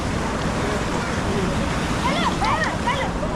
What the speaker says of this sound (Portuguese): Eu só queria aproveitar a piscina de onda um pouquinho.